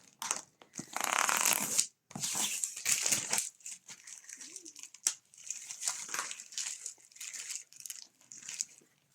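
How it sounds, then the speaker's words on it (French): Crinkly plastic film being peeled and torn off a diamond painting box, bursts of loud crackling and crumpling with brief pauses, close up and without speech. "je déballe ça de suite et je vous montre ça"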